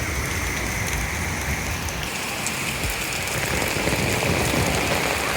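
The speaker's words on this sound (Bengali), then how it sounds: "দেখেন কি পরিমাণ বৃষ্টি ঢাকা শহরে হচ্ছে" Heavy morning rain pours over the streets of Dhaka's Rayer Bazar, a dense, unbroken roar of drops beating on surfaces, loud and steady from start to finish with no voices.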